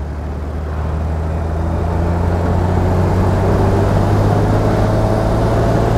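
A 1939 BMW 327/28 Sport-Kabriolett with its six-cylinder engine driving along a straight road, a loud, steady close engine drone and road rumble throughout with no distinct break for a gear change, and no voices.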